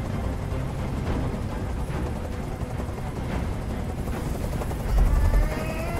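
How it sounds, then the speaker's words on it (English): A helicopter in the game Detroit: Become Human keeps up a steady, loud rotor roar, with a rumbling throb that swells toward the end and no voices over it. "I can't stand that noise anymore! Tell that helicopter to get out of here!"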